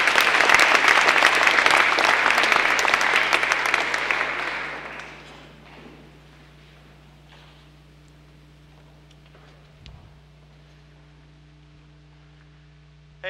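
An audience at TEDx Cornell applauds loudly for several seconds to welcome speaker Jeremy Blum, then the clapping fades away into a quiet room hum with a faint thump near the end.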